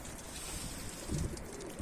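Soft pigeon cooing from a Turkish swallow-marked tumbler pigeon in a loft, a low murmuring coo that swells briefly near the end, fairly close and alone with no talk.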